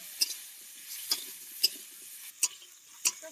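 Cauliflower florets fry with salt and turmeric powder in mustard oil in a kadai. A faint, steady sizzle runs under about five sharp spatula clicks, spaced roughly half a second apart.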